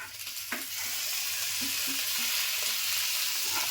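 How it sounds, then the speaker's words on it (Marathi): Ginger, garlic and green chilli sautéing in a pan for spicy Maharashtrian misal, a steady close sizzle with soft stirring scrapes spread throughout. "आता त्याच्यामध्येच मी आलं टाकते, लसूण आणि हिरवी मिरची त्यातच परतून घेते."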